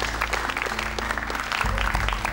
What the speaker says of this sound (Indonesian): tepuk tangan dulu untuk Yunita Mala